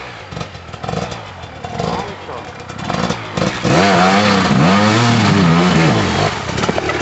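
An enduro motorcycle close by on a Mecklenburg riding tour, engine revving up loudly with rising and falling pitch, while people talk over it.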